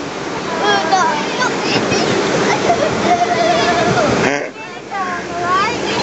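Rushing water and splashes on the Vikings' River Splash rapids ride at Legoland Windsor, a steady loud wash heard from inside the boat, with excited riders talking and shouting throughout and a brief dip near the end.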